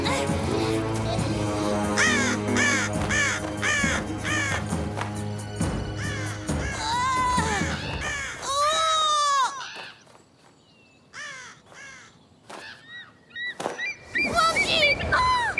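Cartoon crows caw harshly again and again as they attack, the calls sounding over music at first and then more sparsely and loudly once the music drops away.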